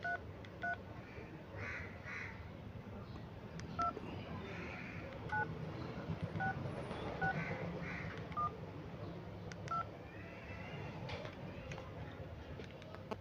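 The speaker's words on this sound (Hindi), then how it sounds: "हम ज़रा नंबर मिलाएंगे, अभी बात करने की कोशिश करेंगे।" A phone number being dialed on a touch-tone telephone: a string of short, evenly pitched key beeps at irregular intervals over a noisy room background.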